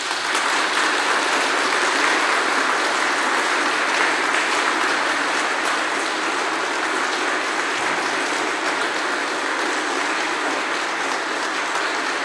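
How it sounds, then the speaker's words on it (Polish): A church congregation applauds its parish priest with sustained, thunderous clapping that fills the whole stretch evenly and steadily, with no talk over it. "głośne słowa podziękowania, gromkie oklaski skierujmy w stronę naszego proboszcza Krzysztofa Krupy"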